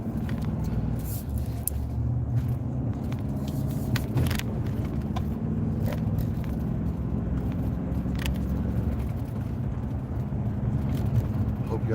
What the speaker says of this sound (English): watch this dump truck pull this trash out